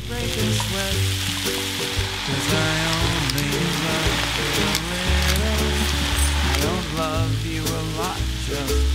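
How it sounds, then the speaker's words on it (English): Onions sizzling in butter and olive oil as they are stirred, a loud, steady, close frying hiss with scraping stir sounds running through the whole stretch. "add in all of your onions and stir around just to get them all coated in the butter and olive oil"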